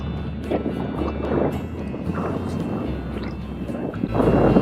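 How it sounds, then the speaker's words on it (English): Strong wind of about 20 miles per hour roars steadily over a small fishing boat out on open water on a rainy day, a constant buffeting rush with low rumbling gusts that build toward the end. "The wind's blowing so hard I don't even have the pedal to troll."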